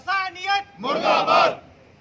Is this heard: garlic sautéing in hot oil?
no